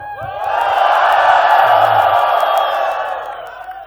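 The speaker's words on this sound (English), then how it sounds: "3, 2, 1, go, and that's when you cheer" An audience cheers on cue, a loud sustained burst of whoops, yells and shouting from a packed crowd that swells quickly and holds for several seconds before tapering off.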